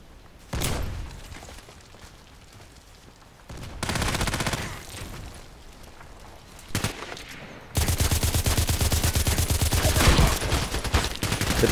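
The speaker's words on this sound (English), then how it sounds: "The problem is with this gun, it's very loud." Gunfire from the online shooter Contract Wars comes in loud bursts: a short volley, a longer rattling burst, a single sharp shot, then a sustained rapid automatic stream to the end, with no talk over it.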